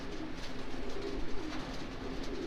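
Racing pigeon hens cooing together in a small loft, a soft continuous murmur of low coos over steady background noise, moderately close with no talking.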